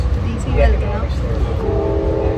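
A train rumbles steadily around a close voice speaking, with a low rolling drone and a faint horn-like tone.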